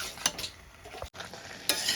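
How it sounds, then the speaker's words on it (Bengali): Chicken with potato being stir-fried in a home kitchen pan, with steady sizzling and scraping stirs, two sharper spatula strokes standing out near the start and end, close and alone without talk. "এইভাবে আমি আস্তে আস্তে করে কষাতে থাকবো"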